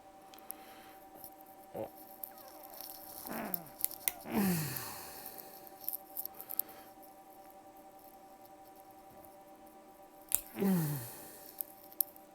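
A spot-welded metal sheet strip is torn off a battery cell in a few sharp, scraping rips with crackling bursts, close and fairly quiet against a steady background hum.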